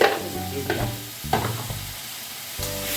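A spice paste of cumin and chili powder sizzles in a pan for a Bengali pabda fish curry, with close scraping stirs breaking the frying hiss at short, irregular intervals.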